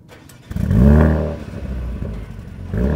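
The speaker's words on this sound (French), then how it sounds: "Je vais vous faire entendre le petit bruit du démarrage" A Mercedes-AMG A35 engine starts on a cold morning around minus two degrees: a brief starter whir, then a loud rumbling flare of revs that settles into a deep idle before rising again.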